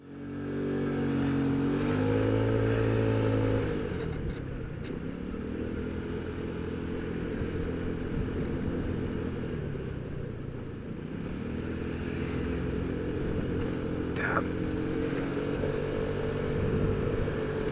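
A Royal Alloy GT125 scooter fitted with Dr. Pulley sliders pulls away uphill on a steep incline from a standstill. Its engine drones loudly, rising in pitch, easing off, then climbing again under full throttle with steady wind noise.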